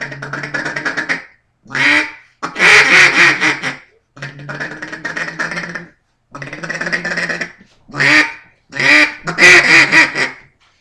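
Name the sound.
double reed duck call blown to imitate duck quacks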